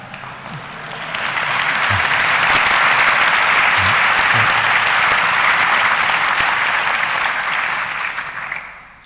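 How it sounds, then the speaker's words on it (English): A large audience at a 2006 UNA-UK event with Kofi Annan gives warm applause. The clapping swells into a loud, dense, sustained wash, holds for several seconds, then begins to taper off. "Listening to you and hearing this warm applause"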